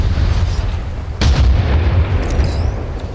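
A frag grenade detonates in Apex Legends, a deep booming blast that swells suddenly over constant rumbling game noise, followed by a lingering low roar.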